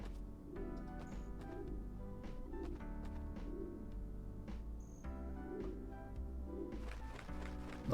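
Birds coo softly in the Lost Kingdoms II video game, a steady repeating coo pattern under game music with faint chirps.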